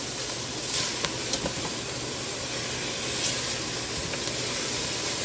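Onions frying in a little oil in a pan, a steady broad sizzle and hiss with occasional louder pops and crackles, close and continuous with no talking.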